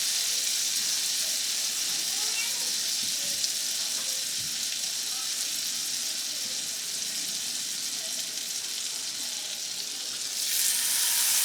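Butter sizzles and fries steadily in a hot cast iron pan for a surf and turf dinner, a continuous close hiss that holds level throughout and brightens slightly near the end.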